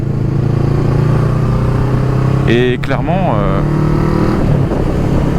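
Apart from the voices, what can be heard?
motorcycle riding on the road, helmet camera motovlog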